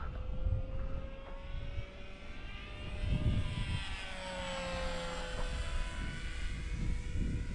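A Skipper RC model airplane flies outdoors in winter, its small electric motor whining steadily and shifting pitch as it passes overhead, with wind noise rumbling beneath.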